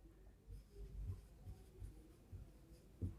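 Chalk or marker scratching out a formula on a classroom board, quiet short strokes and taps in an irregular rhythm, heard close with no talk.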